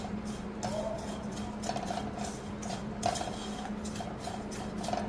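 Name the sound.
stirring chili powder mixture in a pan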